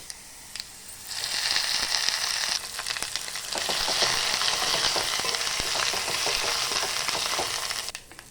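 Ground tomato, fenugreek leaf and sesame chutney hits a hot pan and fries with a loud, bright, crackling sizzle that holds for several seconds, with scattered spatula clicks and no talk.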